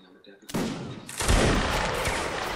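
Musket volleys from the Mount and Blade: Napoleonic Wars video game: a first ragged burst of shots, then a louder, denser crackling volley that keeps rolling, close and loud.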